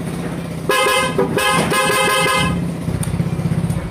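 Several short honks from the horn of a Yamaha Mio MXI 125 motorcycle in quick succession, loud and close, with an engine idling underneath.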